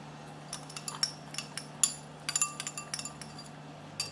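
Dried red dates dropped into a pot for old cucumber soup, a scattered series of small sharp clinks and taps, some in quick clusters, with a faint steady hum underneath.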